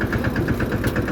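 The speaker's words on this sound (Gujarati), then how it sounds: "જોઈ લો એક આગળ ટ્રેક્ટર જાય." A tractor runs on a rough riverside farm road, its engine giving a steady, loud, low chugging with a regular pulsing beat.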